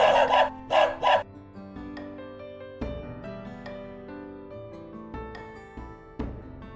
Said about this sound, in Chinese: 迎接我們的不是房屋主人的笑臉，而是一群汪汪隊